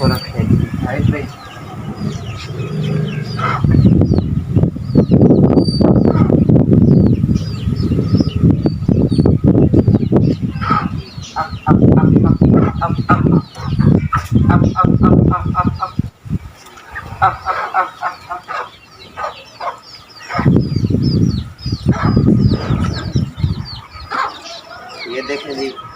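Hens and roosters cluck and squawk loudly and continuously while eating a feed of ajwain, fennel and garlic pieces, with overlapping bird calls and bursts of noise, and a person speaks at times.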